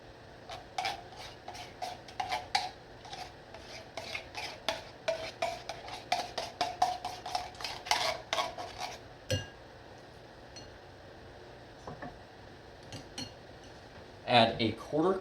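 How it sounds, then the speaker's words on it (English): Metal utensil scraping and clinking against a glass bowl while canned cheese is scraped in, a busy run of sharp scrapes and taps that thins out partway, with a brief louder clatter near the end. "Scrape that into a glass bowl."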